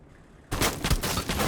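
Rapid gunfire in a first-person shooter game erupts after a quiet moment, a dense burst of close, repeated shots that continues to the end.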